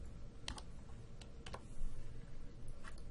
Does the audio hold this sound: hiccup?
no